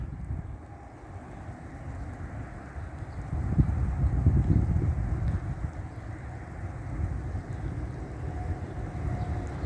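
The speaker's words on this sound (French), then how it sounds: "le vent il va tout casser" Strong wind gusts from a supercell thunderstorm near Valence in the Drôme, roaring as a steady low rumble that swells louder midway and stays loud to the end, with no voices.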